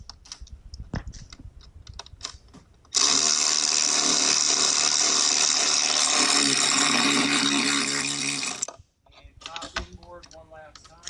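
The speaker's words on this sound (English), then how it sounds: "you can easily tighten those bolts up from the inside and let power do it" A power tool whirs steadily for about six seconds while tightening bolts on a Grumman aircraft, loud and continuous, with quieter clicks and shop noise before and after.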